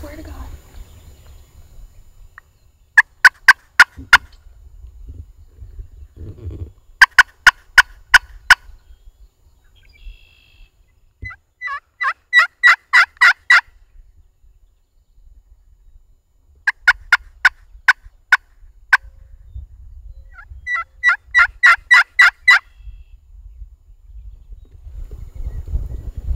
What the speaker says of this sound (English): That was a gobble.